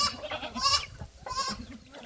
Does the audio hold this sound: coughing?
no